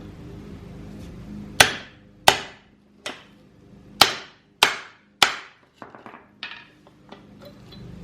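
A 3-pound hammer strikes a steel socket and extension, six sharp ringing metallic blows at uneven intervals followed by a few lighter taps, close and loud over a low background hum.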